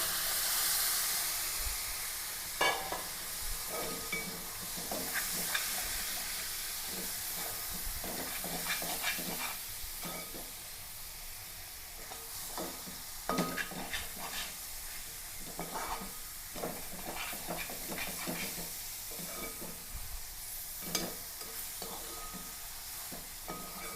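Chicken frying in a pan, a loud continuous sizzle and hiss with frequent crackles and stirring scrapes throughout, close and dense with no talking.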